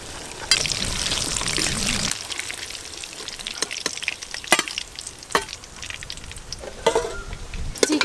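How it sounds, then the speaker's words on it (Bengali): Chicken with biryani masala sizzles and fries in a pan, a steady hiss with occasional scrapes and knocks of stirring, close and moderately loud, with no talking. "চিকেন তো মোটামুটি কষানো হয়ে গেছে"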